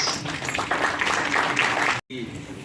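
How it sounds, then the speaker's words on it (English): An audience applauds civil engineers at a session at NIT Jamshedpur, steady clapping mixed with voices before a brief dropout near the end. "big round of applause to all the civil engineers"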